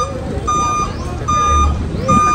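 A truck backing up while cattle are loaded gives out repeated electronic reversing beeps at a steady rhythm over a low idling engine rumble, fairly close.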